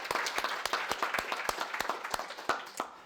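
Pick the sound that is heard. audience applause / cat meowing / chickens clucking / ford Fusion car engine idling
audience applause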